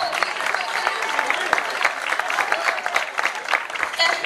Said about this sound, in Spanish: quiero que le den un fuerte aplauso, por favor